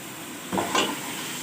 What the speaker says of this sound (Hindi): हमने इसको मैश कर दिया टमाटर को